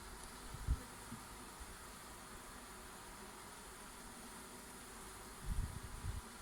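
A honeybee swarm clustering around its queen, a low continuous buzzing hum heard up close, with a couple of brief low thumps or handling bumps near the start and end.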